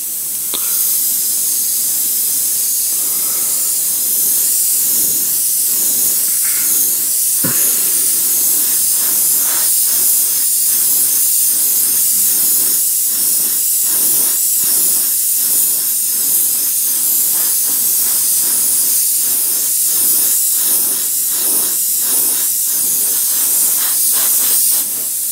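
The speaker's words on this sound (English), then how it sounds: "We're just going to mist it on real light and build up the coats until we get a finish we're happy with." Aerosol can of metallic aluminum spray paint misting onto a frame, a loud, close, continuous hiss with slight pulsing as the spray is swept across, running unbroken throughout.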